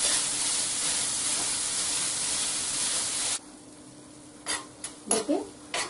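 Khoya roasts in a pan over a low flame, giving a steady soft sizzling hiss that abruptly drops to a quieter simmer broken by a few brief stirring scrapes.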